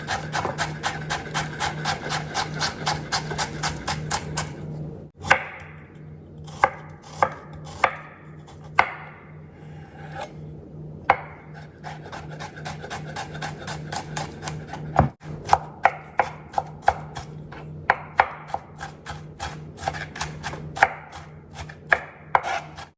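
A knife mincing a garlic clove alongside red onion on a cutting board, rapid even chopping taps at first, then irregular sharper knocks and scraping, close and fairly quiet with no talking.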